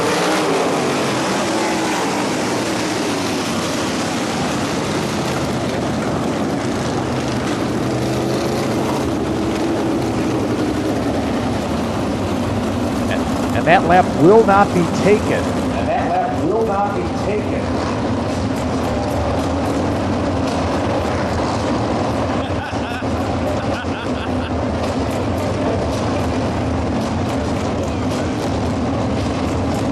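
Sprint cars roaring around a dirt track at an August 17, 2012 race, a loud continuous engine drone with cars sweeping past, under an announcer's commentary.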